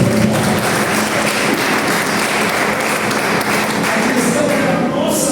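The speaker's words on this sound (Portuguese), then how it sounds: "Pode aplaudir Jesus." A church congregation applauds during a worship celebration, dense loud clapping that fills the space continuously, with voices mixed into the crowd noise.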